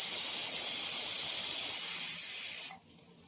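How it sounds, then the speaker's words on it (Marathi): A pressure cooker whistle lets out steam in a home kitchen, a loud, continuous hiss that holds steady and then cuts off sharply near the end. "3 शिट्या आपल्या झाल्या आहेत."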